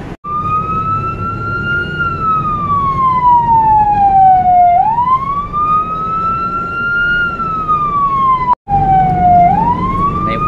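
A loud, close siren wails steadily, its pitch sweeping slowly up and down in long, repeating cycles.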